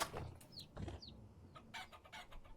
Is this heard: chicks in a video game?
yes